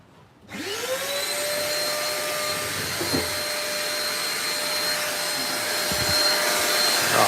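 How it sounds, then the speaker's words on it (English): A bench-mounted shop vacuum switches on and runs with a steady, loud whining roar, close by and alone for several seconds, with a faint clunk partway through. "Vacuum's going on in a sec."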